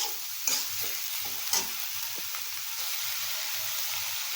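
Onions sautéing with salt in a pan for chutney over medium heat, giving a steady close sizzle with a couple of sharp spatula scrapes near the start.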